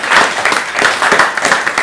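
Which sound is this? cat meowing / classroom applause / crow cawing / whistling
classroom applause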